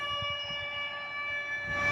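An air raid alert blares from a police car loudspeaker patrolling the streets of the Khmelnytskyi region in Ukraine. A steady, loud, sustained siren tone holds throughout with no talking.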